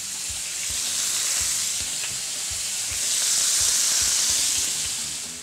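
Beef strips sear in hot coconut oil in a pan, giving a loud, continuous sizzle and hiss that swells slightly and stays steady throughout, with faint low knocks underneath and no speech.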